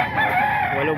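Rooster crowing among many chickens for sale at the Bocaue flea market, a single sustained close, fairly loud call over busy background noise.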